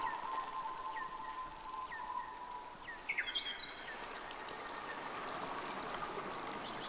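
Steady broadband rush of creek water flowing in the hunting game Way of the Hunter, a constant near wash with a few faint bird calls and chirps layered over it.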